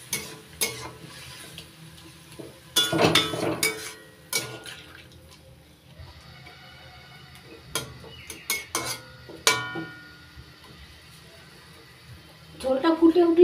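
A spoon scrapes and knocks around a pan of frying chili paste with a little water, for a Bengali puti fish chachchari with winter vegetables: irregular clatters and stirring bursts over a soft sizzle, close up.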